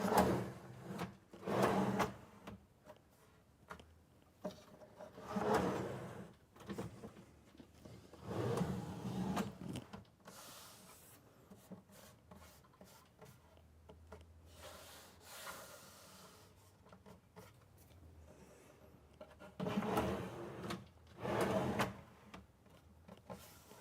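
Van galley drawers on drawer slides being fitted and pushed in, a series of quiet wooden sliding rubs and soft knocks recurring in bursts with pauses between, close by.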